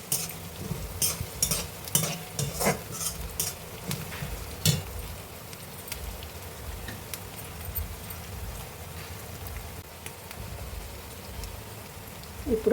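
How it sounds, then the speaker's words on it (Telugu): Curry leaves and onion frying in oil for a bitter gourd dish, a crackling sizzle with a burst of sharp spattering pops early on that settles into a softer steady fry, close by, with no speech. "ఉల్లిగడ్డ వేగిపోయింది. ఇప్పుడు కరివేపాకు వేసుకోవాలి."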